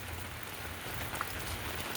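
Steady rain falls on potted succulent plants outdoors, a dense even hiss of drops with a faint patter on leaves and pots throughout.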